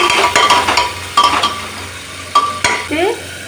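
Ginger garlic paste is stirred into fried onions in a pan, a spoon scraping and clinking against the metal in bursts over a soft sizzle, close and fairly loud.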